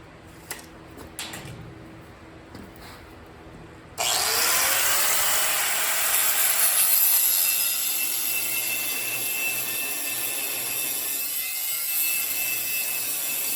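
A power tool cutting metal pipe for a trailer frame starts abruptly partway through and runs loud and steady to the end, a continuous high whine with a slight drop in pitch as it bites.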